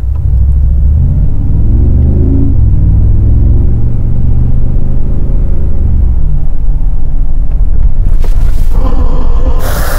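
A Mercedes-AMG G-Class driven off-road with ESP switched off gives a loud, steady low engine rumble and drivetrain drone that rises and eases under load, close and continuous, ending in a sharper clatter.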